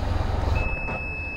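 A vehicle warning beep, taken for a vehicle speed sensor alert, comes on as one steady close tone over engine and alternator rumble. It starts about a third of the way in and holds to the end, with no talk.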